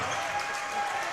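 A high-school varsity basketball crowd at a Shanley vs. Davies game roars steadily after a dunk, a continuous dense wash of cheering and applause filling the gym without breaks.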